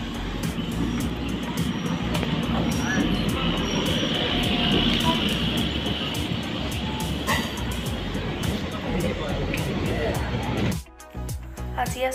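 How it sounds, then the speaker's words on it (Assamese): A local train arrives at a station in Chennai with a loud, steady rumble of wheels and carriages that fills nearly the whole stretch, then cuts off sharply near the end; faint voices may sit beneath the noise. "এখন আহিছে লোকেল ট্ৰেইন"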